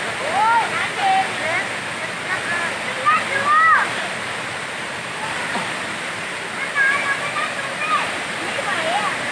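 Ton Sai waterfall pours steadily in a continuous broadband rush of falling water, close and loud, with people talking and calling out over it at intervals.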